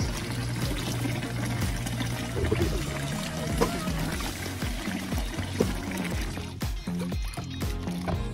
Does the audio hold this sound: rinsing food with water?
yes